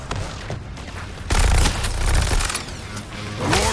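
In the Suicide Squad video game, a giant cannon fires amid dense rapid gunfire and booming blasts, loud and continuous with heavier bursts midway and near the end.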